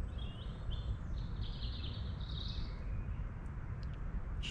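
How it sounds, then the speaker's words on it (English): Birds sing and chirp faintly over a steady, rumbling outdoor background at an overnight campsite, with high warbling phrases coming and going. "Just listen to the birds."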